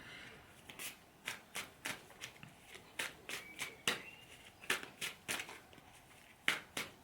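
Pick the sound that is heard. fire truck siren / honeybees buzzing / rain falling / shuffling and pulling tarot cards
shuffling and pulling tarot cards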